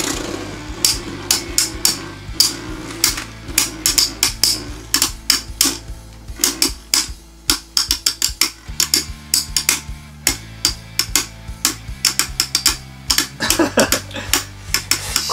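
Beyblade Burst tops, modified for a 2017 tournament, clash in a stadium with rapid sharp metallic clicks and rattling hits over a low spinning hum, loud and continuous with no talk.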